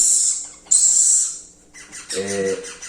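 A ringneck parakeet gives loud, shrill high screeches, two long calls, then a rapid chattering series as it is picked up, close and alone with no talk.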